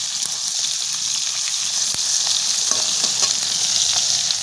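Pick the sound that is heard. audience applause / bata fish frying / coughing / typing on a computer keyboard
bata fish frying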